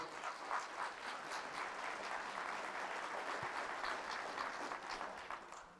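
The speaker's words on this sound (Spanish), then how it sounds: "Fuertes aplausos al Señor Jesucristo." A congregation gives sustained applause in praise of Jesus Christ at a Catholic healing and spiritual deliverance service, steady dense clapping filling the space at a moderate, slightly distant level.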